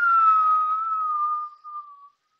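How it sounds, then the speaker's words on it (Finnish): A whistling in-breath drawn through pursed lips during a calming kundalini yoga breathing exercise: one steady, clear tone about two seconds long that dips briefly near the end, alone and close. "jos mahdollista, niin vihellä sisähengityksellä"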